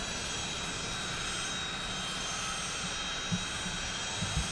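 Sabreliner business jet engines in the Prepar3D flight simulator, a steady, even whine and roar held throughout with no pauses, fairly loud and alone.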